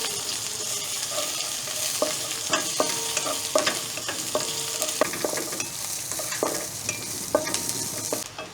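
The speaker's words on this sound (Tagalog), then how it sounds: "Gisa na po tayo ng bawang ilagay na rin po natin si sibuyas" Garlic and onion sauté in a hot pan, a steady close sizzle broken by repeated scraping stirs of a utensil against the pan, with no talk.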